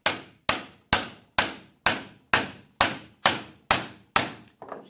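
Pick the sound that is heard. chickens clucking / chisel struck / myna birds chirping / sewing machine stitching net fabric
chisel struck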